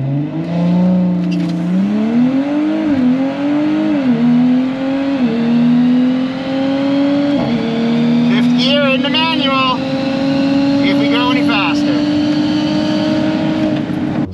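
An E85-tuned car accelerates hard on a quarter-mile run, its engine climbing through the gears with loud rising revs and brief shift dips, then holding a long, steady high pull.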